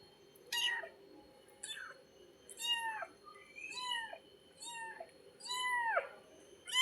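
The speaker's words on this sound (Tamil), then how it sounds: "அவங்க அம்மாக்கிட்ட இருந்து இந்த பூனையை எடுத்தோடனே கத்துது" A soft-furred kitten, just taken from its mother, meows repeatedly in a series of about six clear, rising cries spaced roughly a second apart, close and fairly loud over a faint background hum.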